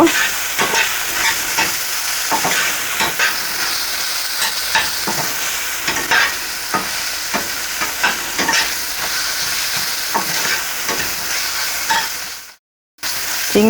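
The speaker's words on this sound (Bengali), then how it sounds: "সুন্দর করে চিংড়ি মাছটাকে আগে ভেজে নেব" Small prawns fry and sizzle in a pan, stirred at intervals for a Bengali ridge gourd dish; a steady close crackle with scraping stir strokes that cuts out briefly near the end.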